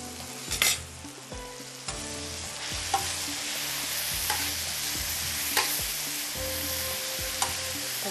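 Green chilies and black peppercorns frying and sizzling in a pan, with a steady hiss broken by repeated stirring scrapes and clinks of a utensil, close and clear.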